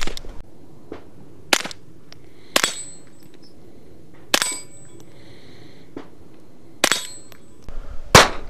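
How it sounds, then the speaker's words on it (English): Suppressed rifle shots crack out one at a time, about six sharp reports with metallic ringing tails, spaced a second or two apart and heard alone at close range. "these rifles are completely safe to shoot without earplugs. With subsonic ammo, there is even less noise, but it is still not silent."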